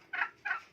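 Two quick gobbles from a turkey, each short and rattling, a brief gap between them, moderately faint and alone.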